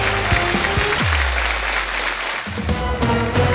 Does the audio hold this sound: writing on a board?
no